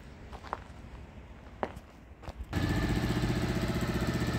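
A Honda Motra 50cc motorcycle engine starts after a few quiet clunks and footsteps, then idles with a steady, fairly quiet putter.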